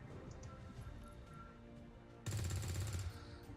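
Burst of rapid gunfire from a soldier in the video game XCOM 2 (Long War 2 mod), about a second long, starting loud and abrupt after a stretch of quieter ambient game sound.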